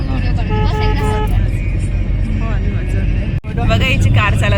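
A car is driven along a road at a village outing, giving a steady engine rumble throughout while several people talk and call out over it.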